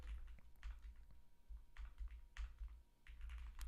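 A new computer keyboard typed on in quick irregular bursts of close key clicks with brief pauses between runs, steady and fairly soft, no one speaking.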